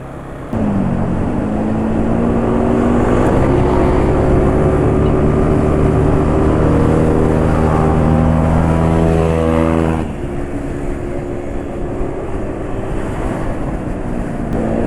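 A motorcycle running Win Power 10W40 oil accelerates on a test ride, its engine tone rising steadily under heavy roaring wind buffeting the microphone, then easing off abruptly.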